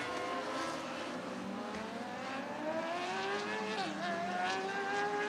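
Sprint cars at a speedway spinning out in turns 1 and 2, distant race engines whining and rising and falling in pitch over a steady wash of crowd and track noise, with no clear voices.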